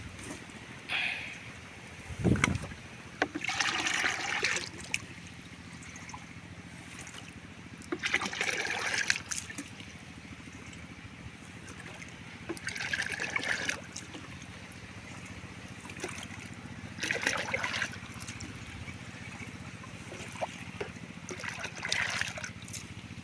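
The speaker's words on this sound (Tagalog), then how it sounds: "Punuin natin ang tubig." Water splashes into a 16-liter bucket to dissolve granular fertilizer, in several separate bursts of gushing and trickling with quieter gaps; no voices.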